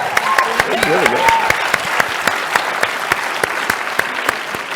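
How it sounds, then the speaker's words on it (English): An audience applauds a speaker at a national conference keynote, with steady clapping throughout, and a voice briefly heard early on over it. "we're going to give a round of applause to Surya Dodia"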